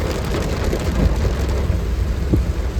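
Heavy rain drums down during a night jungle safari, a dense, loud roar with low rumbles of thunder rolling beneath it, no voices.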